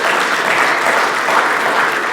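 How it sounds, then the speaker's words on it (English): A crowd at a military relations committee luncheon gives a steady round of applause, a dense, even wash of clapping with no pauses. "Let's give Leslie a round of applause"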